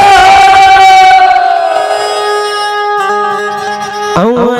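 A crowd at a grand goddess Kali festival in Bemetara roars a loud victory chant in unison, sustained and close, with music and tonal voices ringing through it.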